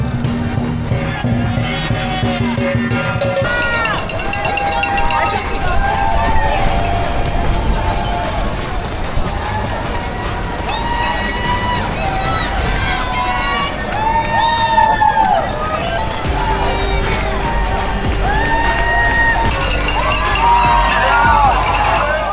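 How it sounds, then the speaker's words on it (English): Spectators lining the streets of Times Square at the NYC Half Marathon cheer runners, a steady wash of crowd noise with scattered whoops and shouts running the whole time. "we were greeted with cheering crowds"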